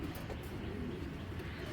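Khaki Giribaz pigeons, a running breeding pair, coo softly and steadily at close range, a low rolling murmur with no talk over it.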